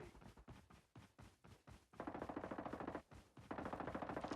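Rapid automatic gunfire in the mobile shooter Call of Duty Mobile, fired in quick repeated bursts with brief pauses between strings of shots, moderately close and steady.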